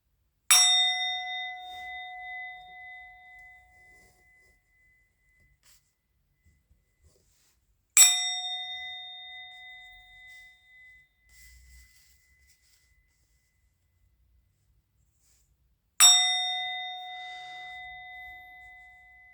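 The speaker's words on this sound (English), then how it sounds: "I'm going to ring the bell." A bell is struck three times at even intervals of about eight seconds, each a clear metallic ding that rings out and slowly fades to silence before the next strike.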